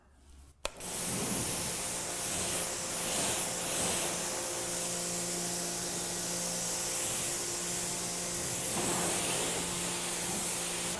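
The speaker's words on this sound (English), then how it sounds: "So I'm going to begin by rinsing now." A hose spray rinsing a car during a wash, a steady close hiss of water with slight rises and dips, starting after a brief quiet moment and running continuously without talk.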